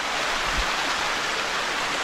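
Creek water flows steadily and close by, a broad, even rushing hiss with no pauses and no voices.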